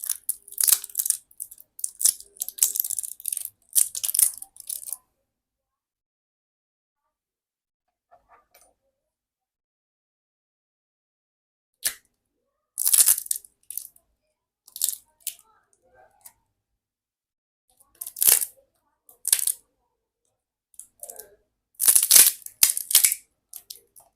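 Oppo A58 smartphone being pried and pulled apart during an LCD screen replacement, giving bursts of crisp crunching, tearing and clicking of plastic and adhesive, separated by quiet gaps, close up with no speech.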